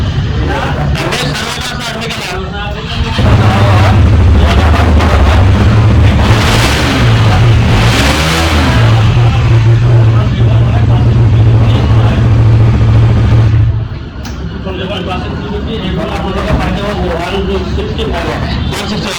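A second-hand 2022 Royal Enfield Classic 350 in showroom condition at a dealer revs loudly and steadily for about ten seconds, its thumping exhaust drone set between stretches of someone talking nearby.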